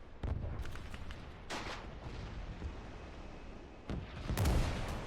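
Artillery shells landing in a World War II Iwo Jima invasion video game, 1945 setting: a few heavy booming impacts with rumbling bursts near the start, middle and end over continuous low battlefield noise.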